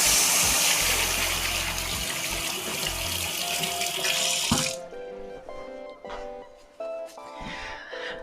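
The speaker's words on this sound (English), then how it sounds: "because I'm so messy, I'm gonna have to wash my hands" Tap water runs loudly into a sink as hands are washed beneath it for about four seconds, then the flow stops, leaving faint drips, clinks and kitchen handling sounds.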